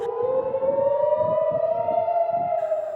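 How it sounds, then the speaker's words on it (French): Civil defense air raid siren sounding across Israel during missile attacks, a loud steady rising wail held throughout with no voices. "Les sirènes ont retenti largement dans le pays"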